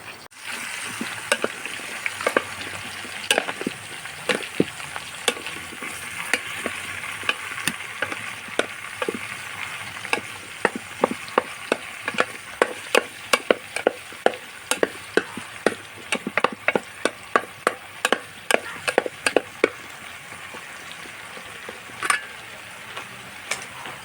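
Aviyal vegetables stirred in a cooking pot, a spoon scraping and clattering in irregular bursts that grow denser and sharper toward the end over a low steady simmer, close by with no talk.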